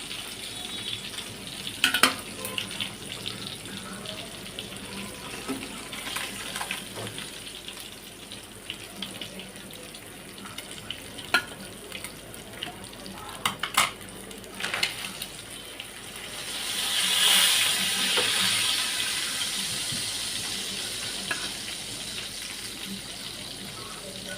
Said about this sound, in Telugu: ఆల్రెడీ ఫ్రై చేసాము, మళ్ళీ ఇంకొక నిమిషం పాటు ఫ్రై చేస్తే బాగుంటుంది అన్నమాట